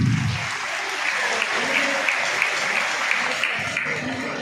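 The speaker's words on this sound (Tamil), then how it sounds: "கைத்தட்டலாமே." Audience applause at an awareness programme for girl students in Chennai, sustained even clapping from a large indoor crowd, loud and continuous throughout.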